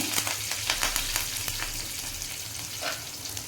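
Curry leaves and chopped garlic sizzling in hot oil for a bitter gourd fry, a steady close crackle with brief spattering pops and stirring, no voices.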